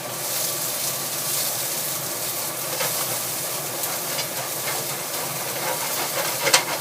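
Minced onions sizzle in a hot pan with a loud, steady, broad hiss and faint crackles throughout, with no talking.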